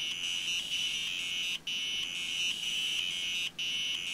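A Timex Computer 2048 plays demo sounds through its beeper speaker: a continuous shrill electronic tone with warbling steps, broken by two brief cutouts.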